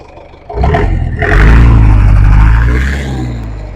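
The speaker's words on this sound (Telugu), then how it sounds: "సార్ రేజ్ చేయి బండి" A nearby Mahindra jeep engine revs up hard, its roar climbing and holding loud before easing back slightly.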